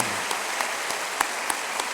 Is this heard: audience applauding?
yes